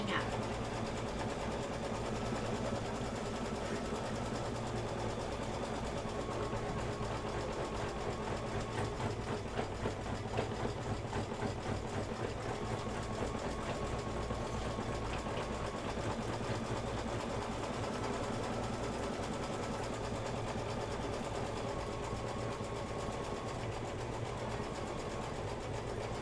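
An embroidery sewing machine stitches gray thread on a Halloween quilt block, a fast, steady mechanical whirr and needle chatter running continuously for the whole stretch at moderate volume.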